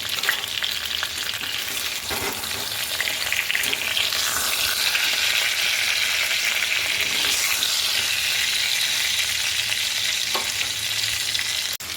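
Pointed gourds frying in oil with salt and turmeric, a loud, steady crackling sizzle filling the whole stretch, with occasional soft stirring scrapes.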